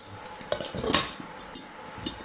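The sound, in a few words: lid placed on pan of popping jowar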